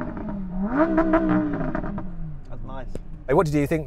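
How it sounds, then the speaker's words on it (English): A Lamborghini Huracan Performante V10 revs, its engine note rising and falling under people talking nearby. "does the V10 of the Performante sound better?"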